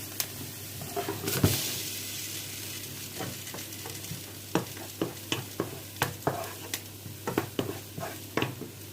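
Onion frying in a pot gives a steady sizzle, with a run of sharp clacks and scrapes from stirring and knocking a utensil against the pot, close and without talk.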